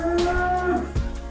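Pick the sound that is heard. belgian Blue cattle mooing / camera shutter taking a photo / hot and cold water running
belgian Blue cattle mooing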